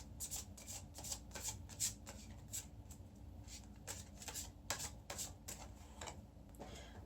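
A deck of tarot cards is shuffled in a steady run of soft, papery riffles and flicks, quiet and close, continuing for several seconds with no talk.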